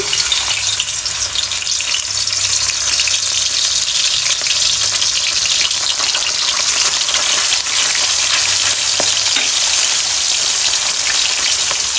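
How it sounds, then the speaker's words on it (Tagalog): Flour-coated milkfish (daing na bangus) fries in hot oil with a loud, steady, close crackling sizzle that continues evenly throughout without pause. "mainit na yung ating oil at tapos na rin nating makoted ng konting harina yung ating bangus. So, ilagay na natin."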